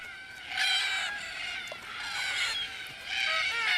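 Red-tailed black cockatoos in a flock call at a watering hole in the evening, harsh grating screeches overlapping in bursts from several birds at close to moderate range, with no gaps between outbreaks.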